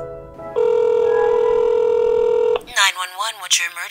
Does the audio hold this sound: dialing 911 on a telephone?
yes